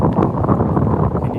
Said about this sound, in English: Oh man, lots of wind, huh?